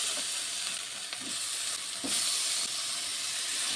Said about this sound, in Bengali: টমেটোটিকে দিয়েও আবারও একটু নেড়ে ছেড়ে রান্না করে নেব